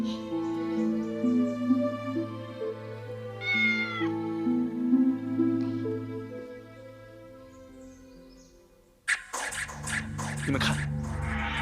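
A small, playful cat meows a few times, its rising and falling cries standing out over soft background sound in a period-drama scene, followed by a sudden burst of louder broadband noise near the end.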